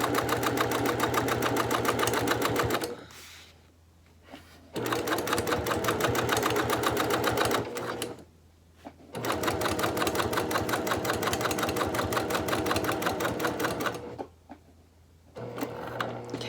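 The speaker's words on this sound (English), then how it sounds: "I'm going to sew this in place, and I use about a 1/8 of an inch seam allowance away from the center line" A sewing machine stitches a seam on a cross body bag exterior in three long, loud, steady runs with rapid rhythmic needle chatter, broken by short quiet pauses where the fabric is turned.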